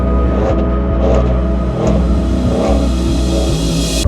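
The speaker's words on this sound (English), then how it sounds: "This is a 2018 Ford F-150 XLT, highly modified 5-liter V8." Modified 2018 Ford F-150 XLT with a 5-liter V8, revving hard on the Bonneville Salt Flats; a loud, steady engine roar that climbs and holds close by, with no talking over it.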